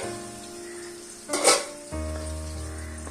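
Tangra fish dropped into hot oil, a sudden loud sizzling burst that settles into a steady quieter fry beneath a humming background.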